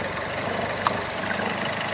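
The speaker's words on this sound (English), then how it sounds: "when I plug it, you see the engine doesn't idle quite right." A Chevy Cruze engine idling roughly with its PCV valve plugged, a steady close mechanical hum and whir with faint unevenness and a brief click midway, no talk.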